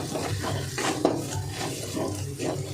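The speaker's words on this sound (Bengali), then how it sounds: "2-3 বার নেড়ে নেব।" Onion, garlic and ginger paste with ground coriander and cumin is stirred in a pan for an egg curry, giving a steady close sizzle with repeated scraping strokes of the spoon and no talk.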